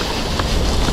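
Strong wind blows across the Daugava river during a bream fishing trip, a loud, steady rumbling gust buffeting the microphone for the full second.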